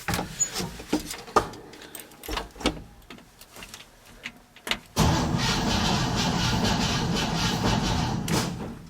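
A 1968 Chevy C10 engine cranking over, a series of short uneven starter bursts, then a longer steady stretch of cranking mechanical noise, close and fairly loud.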